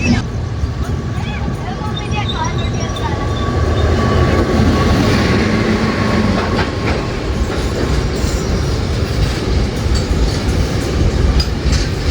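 A local train on the Mumbai-bound line rumbles past close by, heard from the Mangala Lakshadweep Express, wheels clattering rhythmically over the rails in a loud, continuous roar, with voices faintly underneath.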